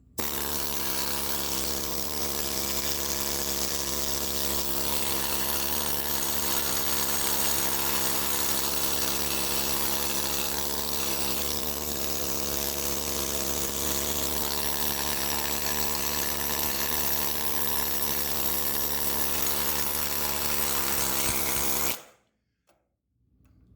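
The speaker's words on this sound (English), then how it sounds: "You're letting the reciprocating action, the hammering action, do the work for you." A pneumatic needle scaler hammers rust off metal in a continuous, dense rattling buzz, loud and close, running without a break before cutting off abruptly near the end.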